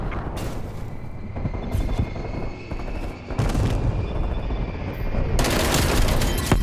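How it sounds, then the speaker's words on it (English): A strafe run killstreak in Call of Duty: Black Ops Cold War, with dense, continuous aircraft gunfire and blasts that roll on without pause and surge louder near the end. "My first strafe run."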